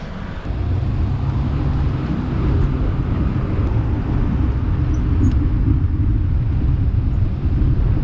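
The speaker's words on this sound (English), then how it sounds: "Traffic." Loud, continuous road traffic rushes past a cyclist on a nice day, a broad steady roar with wind buffeting that swells slightly as vehicles go by.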